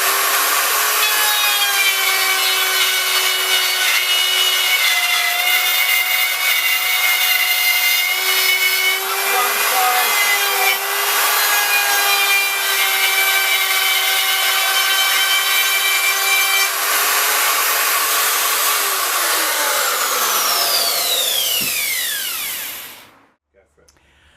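A plunge router cuts a shallow pass in wood guided by a template jig, with a loud steady whine that shifts in pitch as it cuts, then spins down at the end and drops to silence.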